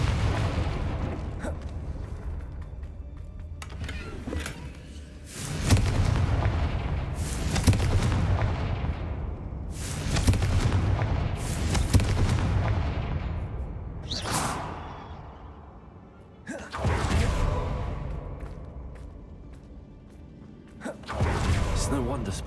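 Confringo spell blasts in the Hogwarts Legacy video game, a string of sharp booming fiery bursts with whooshing tails, several strong hits spaced a few seconds apart, loud and close amid game action and a voice speaking.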